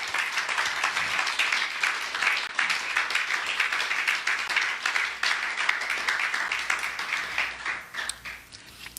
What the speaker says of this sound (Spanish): ¿Puede dar un aplauso a eso, hermano?